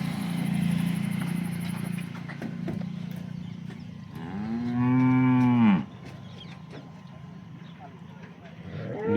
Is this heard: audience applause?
no